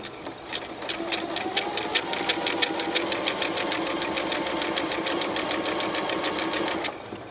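A sewing machine stitches a free-style appliqué outline in fast, steady runs of needle strokes, loud and close, with no talking, then stops near the end.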